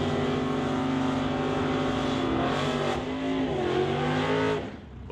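Two 1996 Chevrolet Camaros set up for NHRA race trim drag race in the Pro Bracket semifinal of an NHRA Summit ET Series event. Their engines give a loud, sustained, rising roar that eases off near the end.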